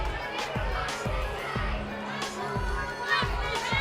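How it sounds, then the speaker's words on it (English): A boxing arena crowd roars and stirs all around as a women's bout begins its second round, a steady wash of cheering and chatter with dull periodic thumps, while a commentator's voice runs over the noise. "The crowd are on their feet all around us as we get underway for round 2."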